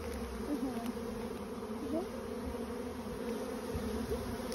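A swarm of honeybees moving into a bait hive makes a continuous, close, even buzzing hum with no break.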